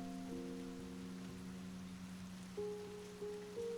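Steady soft rain falls outside a café in Kyoto, a constant gentle patter beneath slow, sustained musical tones that shift twice near the end.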